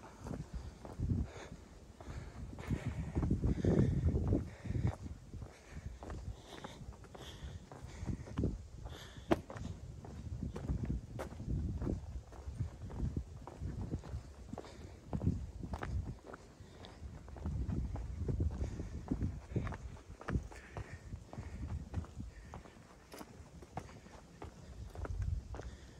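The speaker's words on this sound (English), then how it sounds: "I could hear footsteps" Footsteps crunching along a hiking trail on Mt Takao, a steady walking rhythm of close, moderately loud steps continuing throughout with light wind noise and no talking.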